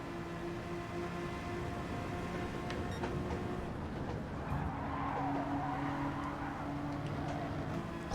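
An NSX racing car in a driving video game slides into oversteer, its engine holding a steady tonal drone while a rising tire-scrub hiss builds through the second half, with no voices.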